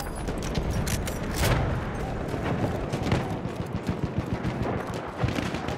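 Rapid gunfire rattles through a Battlefield 1 battle, dense overlapping shots and bursts at steady loud level with a rhythmic string of reports toward the end.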